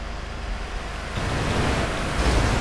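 A vehicle plunges into water in a car racing video game: a steady rushing wash that swells abruptly after a second and keeps surging like churned water, with no talk over it.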